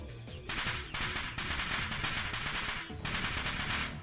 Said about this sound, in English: A sound like firecrackers resounds from the other side of the door. A dust explosion.